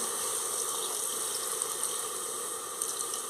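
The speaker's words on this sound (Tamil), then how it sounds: "ஒரு அரை டம்ளர் அளவுக்கு தண்ணி ஆட் பண்ணிக்கலாம்" Steady watery rush of water pouring into a pressure cooker while making mutton curry, continuous and fairly close, with no talking.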